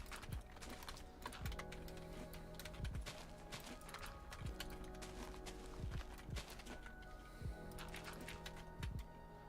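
Computer keyboard typing close to the microphone, a brisk run of clicky keystrokes with occasional louder clustered strokes, steady and unbroken over a faint low background hum, with no talking.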